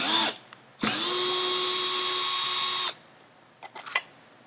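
A power drill backs out the black cover screws on a solar energy storage unit, running in one strong, steady two-second whir after a brief start, followed by a few light clicks.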